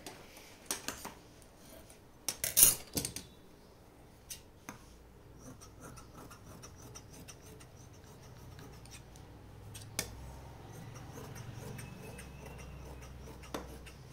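Scissors cutting fabric for a sleeve in a tailoring setting: a quick cluster of sharp snips near the start, then faint scattered clicks and soft handling noise, close and fairly quiet with no talking.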